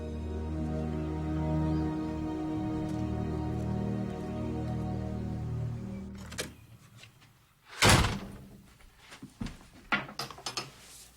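A door opens with a sharp knock-like thud that follows a sustained tonal drone, then smaller clattering bumps and taps fade out in a quiet room.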